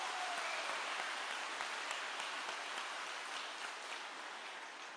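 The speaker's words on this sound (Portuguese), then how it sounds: "Pode aplaudir" A Catholic congregation applauds during a sermon, a steady, dense wash of many hands clapping heard at a moderate distance, even and sustained without talk.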